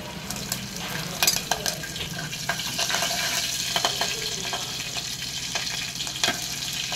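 Cumin and mustard seeds spluttering in hot oil on a stove, a continuous crackling sizzle with scattered sharp pops, close and fairly loud.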